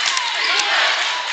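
Fans in the north section chant at a high school basketball game, Emporia versus Shawnee Mission North, in an echoing gym: a steady, loud wash of crowd voices with reverberant chanting.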